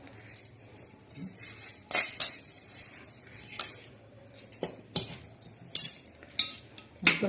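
Rice for spicy chicken pulao being stirred in a metal pot, with scattered scraping and sharp clinks of a spoon against the pot at irregular intervals, close and fairly quiet, no talk.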